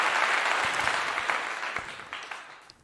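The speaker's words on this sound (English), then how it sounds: "I got to give it a clap." A single audience's applause in a talk setting, dense steady clapping that fades out gradually over a few seconds.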